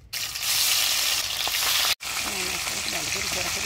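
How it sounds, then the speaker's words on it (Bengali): Rohu fish fries in hot oil, a loud, dense, crackling sizzle that runs continuously, cuts out for an instant, then resumes, with faint voices beneath. "বড় মাছ প্রথমে মাছটা ভাজে নেব"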